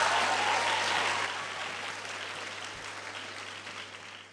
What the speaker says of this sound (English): Can we give our class of 2022 champions another round of applause?